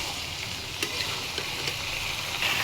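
Mango pickle stirred steadily in a frying pan: a continuous loud sizzle of hot oil with a few soft spoon scrapes and taps against the pan, no voices.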